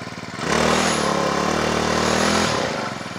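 A grass cutter's small engine catches after a pull start and runs with a steady, loud buzzing drone for about two seconds, then drops off quickly.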